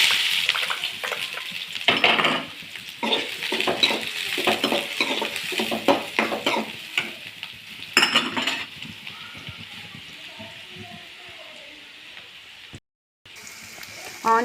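Chopped onions hit hot oil in a kadai with a loud, close sizzle, then a spoon stirs and scrapes in bursts, the frying fading to a softer hiss before a short gap and a final clatter.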